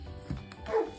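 A pet dog whimpers and yips briefly in the background of a quiet room, a short mid-pitched whine rising near the end.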